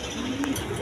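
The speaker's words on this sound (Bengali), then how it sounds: "দর্শকবিন্দা এখানে এক পেয়ার ব্ল্যাক রেসার কবুতর আছে" A pair of black racer pigeons coos softly at close range, a low steady murmur lasting under a second with a brief faint rise near the middle.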